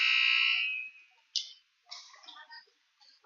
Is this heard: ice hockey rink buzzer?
yes